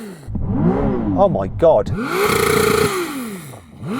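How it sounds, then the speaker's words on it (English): A sports car's engine, a Ferrari, McLaren or Porsche, is revved hard in a series of rising and falling blips during a drag race sound check, sweeping up sharply several times before settling into a longer sustained rev, with a voice exclaiming briefly. "I'm going to rev up this car."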